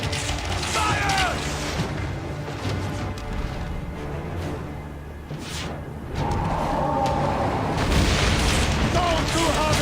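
Ship cannons fire in Assassin's Creed Origins, heavy booming blasts and crashing impacts rolling through a long, dense battle din with shouted voices over it.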